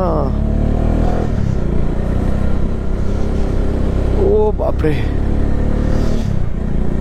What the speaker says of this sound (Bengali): বাইকে এতটাই লোড, বাইক আর উঠতে চাইছে না।